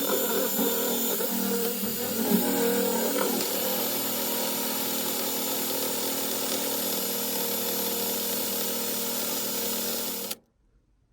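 Homemade laundry soap, clumpy after sitting overnight, is mixed with a steady loud mechanical whir, like a power mixer running continuously for about ten seconds before cutting off abruptly.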